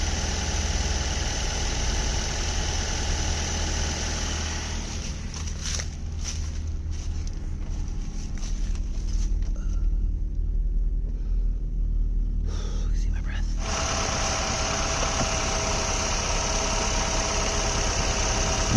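A car engine idles smoothly with a steady low rumble and no shaking, holding constant throughout while people talk over it.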